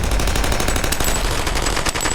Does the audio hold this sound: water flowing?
no